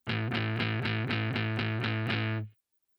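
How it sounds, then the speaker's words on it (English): Heavily distorted guitar chugging palm-muted power chords, around nine tight, punchy strokes in an even rhythm, loud and close, ending abruptly. "But with palm muting, you get a much tighter, punchier sound like this."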